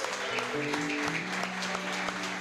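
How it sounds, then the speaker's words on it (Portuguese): Applause from the congregation at a regional Christian adolescents' gathering, steady and sustained clapping mixed with a low instrumental tone, moderately loud throughout. "vamos aplaudir ao Senhor Jesus."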